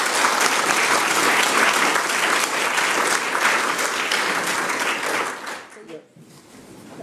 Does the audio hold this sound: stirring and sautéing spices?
no